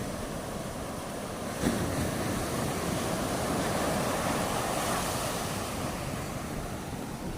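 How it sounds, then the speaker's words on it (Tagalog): Steady roar of ocean surf with waves washing in continuously, mixed with gusty wind noise on the microphone. "Nagsasalpukan ng alon"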